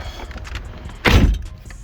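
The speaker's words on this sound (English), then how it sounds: "you've got to make sure the door is closed." A single solid thunk of a BMW F30/F31 car door shutting at close range, with a quiet background before and after.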